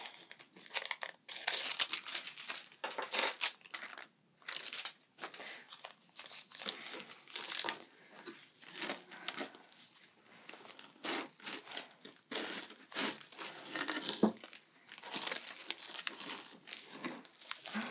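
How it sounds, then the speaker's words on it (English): Punch needle fabric is slowly peeled back off the teeth of a gripper frame, making close, crackly tearing and crinkling sounds in uneven bursts with short quiet gaps, alone and fairly soft. "And then just very gently peel this back."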